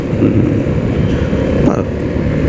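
A 350 cc scooter engine runs at a steady, smooth idle or low rev, a continuous low rumble close by with little vibration and no change in pitch.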